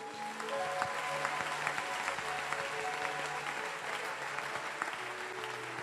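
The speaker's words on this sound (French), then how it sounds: "À ma droite, on acclame le Seigneur pour lui." A church congregation at a Gabonese revival service applauds loudly and steadily, dense clapping filling the room for several seconds, with faint voices and a sustained tone in the background.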